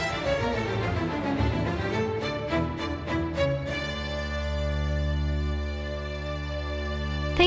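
Classical music plays at moderate volume with no talking, moving from a busy passage with quick repeated notes into long, sustained chords.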